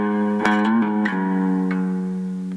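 Cigar box guitar plays the intro lick of a song, a quick run of picked, hammered and slid notes ringing out close and clear with sustained tone and no talking.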